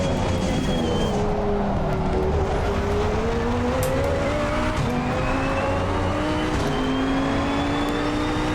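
A KTM X-Bow GT2 race car in the ACC racing game drives at the Red Bull Ring, its engine droning loud and continuous, with pitch sweeping through gear changes while the tyres slide under the steady roar.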